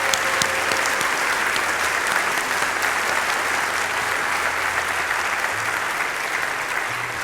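An audience applauds a community band in a hall, dense steady clapping at even volume throughout with a faint murmur of the crowd underneath.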